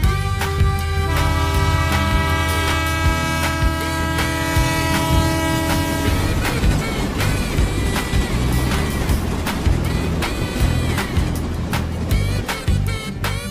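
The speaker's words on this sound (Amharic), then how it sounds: "ይህን ዳዊ የባቡር መስመሩን አቋርጣለሁ ብሎ ለጥቂት ሊያመልጥ ችሏል" A train passes a railway crossing with a loud sustained horn blast, followed by heavy rolling rumble and rapid clattering and banging as the cars go by up close.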